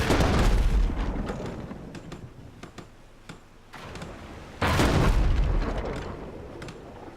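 Ship cannons firing in the naval video game Abandon Ship, a heavy booming barrage with dense overlapping blasts, easing off midway and then rising again into loud, continuous explosive rumbling.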